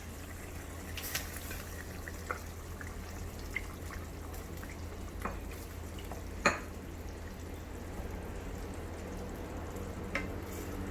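Prawns frying in hot oil for Chettinad prawn thokku, a steady low sizzle with sparse soft pops and drips scattered across the pan, fairly quiet and close.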